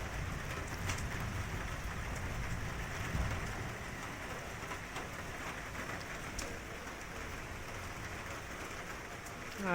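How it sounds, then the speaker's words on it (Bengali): Heavy rain pouring at night over a wet courtyard, a continuous loud hiss of drops on surfaces with occasional sharper splashes, steady throughout and no talk. "9টার সময় যে বৃষ্টিটা খুব জোরেই পড়ছে"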